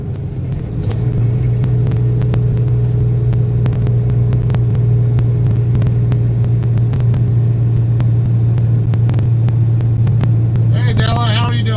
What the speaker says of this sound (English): My truck is a 10-speed manual.